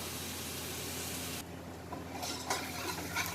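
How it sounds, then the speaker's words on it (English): Onion caramelizes in a pan: a soft, continuous sizzle with scraping stirs and light clinks of utensil against the pan, quiet and close, with no voices. "Now I am caramelizing my onion."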